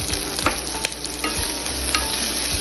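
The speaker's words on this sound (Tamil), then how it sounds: "இதுக்கப்புறமா இது கூட நம்ம சாப் பண்ண வச்ச ஆனியனை போடணும்" Chopped onion dropped into a pan with two dried red chilies and two green chilies fries with a steady close sizzle, while a spoon stirs and scrapes in short irregular knocks.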